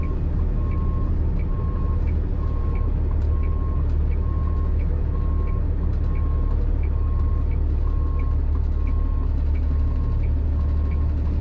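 A truck's reversing alarm beeps steadily and evenly while it backs up, each short tone repeating at a regular pace over a continuous low engine rumble, close and loud throughout.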